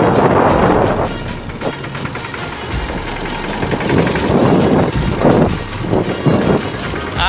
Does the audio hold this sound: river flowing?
no